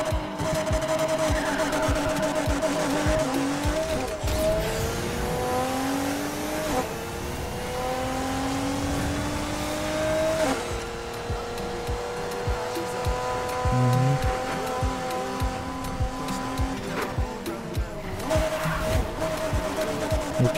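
A Mercedes C63 AMG in the racing game NFS Heat accelerates hard, its engine note climbing through several gear pulls, with brief tire squeal and the revs dropping between shifts.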